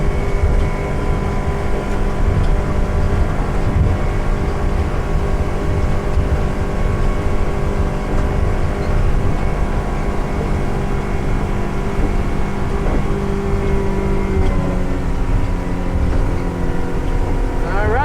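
A 2012 Hewescraft Sportsman 200 fishing boat under way on a Yamaha 90 outboard, heading into the wind at speed: a steady, loud engine drone with constant hull and water rush, sustained throughout without pause.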